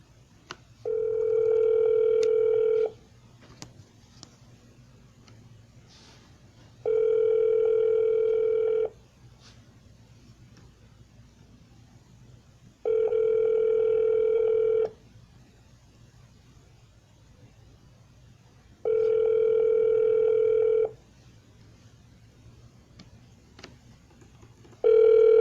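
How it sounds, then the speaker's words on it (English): An auto-dialer places calls on a phone line, producing four evenly spaced ringback tones, each about two seconds long, steady and clear over a low background hum, with quiet gaps between them. "Let's start the dialer."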